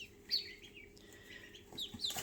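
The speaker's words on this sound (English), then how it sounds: "the ducks have arrived." High, thin peeping calls from ducklings, a few sharp chirps standing out over a soft background hum, fairly close.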